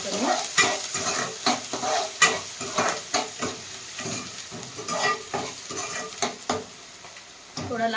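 Onions and curry leaves sauté in a pan for chicken sukka, with a close, steady sizzle broken by repeated scraping strokes of a spatula stirring the mixture.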